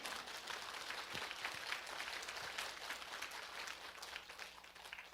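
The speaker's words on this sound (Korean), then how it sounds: "주님께 감사 박수 올려드리세요" Church congregation clapping together in steady, dense applause, fairly faint and distant, continuing evenly throughout without speech.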